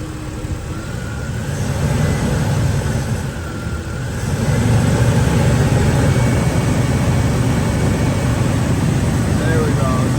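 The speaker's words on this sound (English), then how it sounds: "Let's put some RPMs through this thing." A car engine revved above idle while sitting still during an air-conditioning compressor test, a steady low rumble that swells and holds at higher RPM, with a person talking over it.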